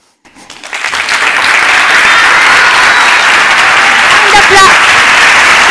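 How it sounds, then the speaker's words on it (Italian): Sustained applause from a large theatre audience, swelling quickly after a brief quiet start and holding steady and loud throughout. "Un grande applauso ad Alessandro Dall'Oglio, direttore artistic"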